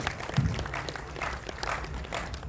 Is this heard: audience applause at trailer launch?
yes